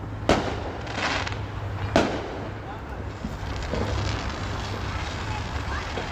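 Big Fourth of July fireworks bursting in the sky, two sharp booms followed by a steady crackling and rumbling wash under continuous background noise.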